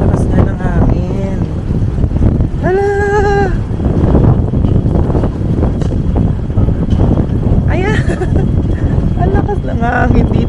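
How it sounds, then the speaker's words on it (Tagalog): Strong Signal No. 8 typhoon wind roars steadily against the microphone on a Hong Kong street, a constant loud buffeting with people talking intermittently over it. "malakas yung hangin dito"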